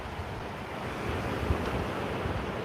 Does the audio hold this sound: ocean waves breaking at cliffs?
yes